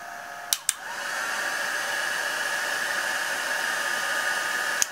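Hair dryer blowing on wet watercolor paint on a Christmas card, switched on after a couple of clicks and running as a steady loud whooshing hiss, with another click at the end.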